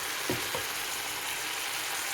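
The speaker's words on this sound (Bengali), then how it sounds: "এদিকে এখনও খিচুড়ির মশলা ভাজা হচ্ছে, আমি একটু অল্প আঁচে করছি" Khichuri spices fry in a pan over low heat, a soft steady sizzle with a couple of faint stirring knocks near the start, quiet and close with no talking.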